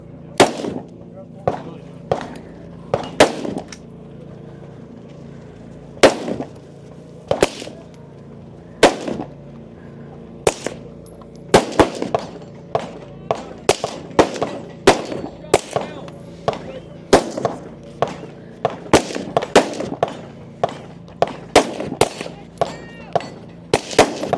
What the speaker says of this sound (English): 15 shots with the rifle